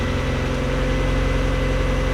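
A Mazda Miata NB engine idles high after a cold start, with a low, even rumble and a slightly fast, smooth pulse throughout.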